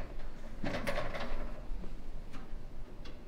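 A drawer on a Husky welded steel shop cabinet slides open with a hefty metallic rumble and a couple of clicks and knocks of the runners and stop.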